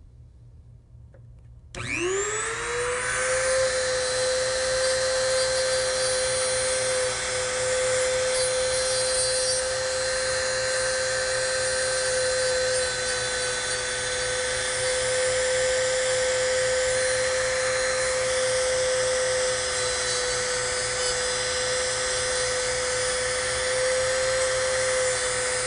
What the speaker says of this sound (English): Let's go ahead and do a little more sanding on the Dragster body with the Dremel tool in its stand.